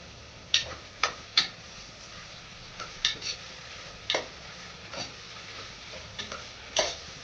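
Sliced onions with half a spoon of salt frying in a pan for a Godavari-style prawn biryani, a low steady sizzle broken by a dozen sharp scraping and clinking stirs of a spoon against the pan.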